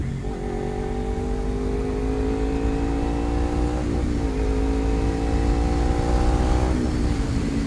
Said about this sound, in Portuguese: Tá estralando o escapamento.